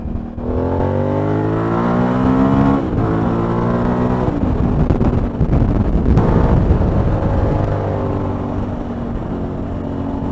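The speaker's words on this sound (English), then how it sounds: "Back to full traffic then." Road traffic heard from a Suzuki V-Strom 1000 motorcycle, with a revving engine whose pitch rises and falls through gear changes, buffeted by wind noise, loud and close throughout.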